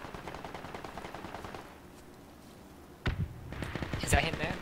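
A shooting video game produces rapid automatic gunfire that rattles steadily, then pauses before sharp single shots and renewed bursts, with players talking over it.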